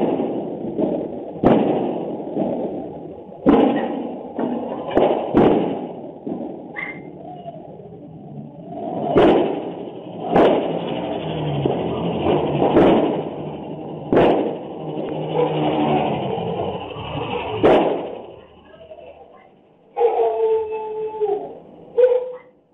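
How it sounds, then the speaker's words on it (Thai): A series of sharp, loud bangs from explosives thrown in a residential alley bursts out at irregular intervals. Some come singly and some in quick clusters, over a steady background rumble and what may be a dog. "เสียงดังปุ้งปุ้งปุ้งคือเสียงระเบิดที่ดังขึ้นภายในซอย"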